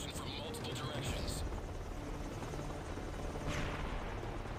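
Helicopters arrive in the Modern Warfare 3 Survival game, their steady rotor whir filling the scene, with a few faint gunshots in the background and someone talking over it.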